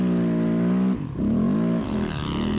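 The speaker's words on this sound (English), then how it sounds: "So there's Joe on his 20 Riot LE" A 2020 Timbersled Riot LE snow bike engine revs hard and loud, a steady high drone that dips briefly near one second, then climbs again with rising and falling pitch as the throttle works.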